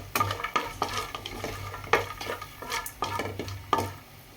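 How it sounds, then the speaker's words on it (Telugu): Cashew pieces and tempering spices are stir-fried in a pan for semiya pulihora, with a spoon scraping and knocking against the metal in a steady series of close, clattering strokes over a faint sizzle. "దీంట్లోనే జీడిపప్పు పలుకులను కూడా వేసుకొని లైట్ గోల్డెన్ బ్రౌన్"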